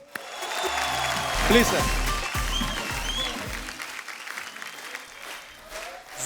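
Studio audience applause on a Hindi comedy talk show greets a music director, a steady dense clapping wash over the whole span with a host's voice speaking over it.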